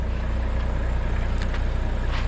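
An old German car's engine warms up at idle, a steady low rumble with a continuous hum running loud and close throughout, with no talking.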